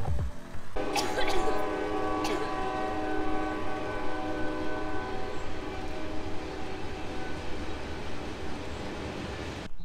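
Train rolling past close by, sounding a long, loud horn with sustained tones that cuts off, followed by steady rumbling and clatter of cars on the track, heard alone without talk.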